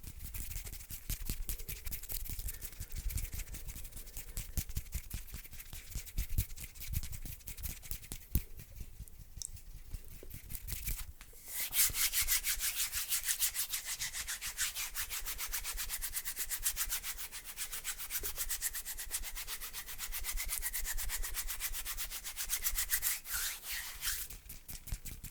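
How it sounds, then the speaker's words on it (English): Hands rub and brush across a highly sensitive Blue Yeti microphone, producing close, continuous scratchy friction with rapid textured strokes and a brief quieter pause midway. "what hand sounds sound like on a highly sensitive Blue Yeti?"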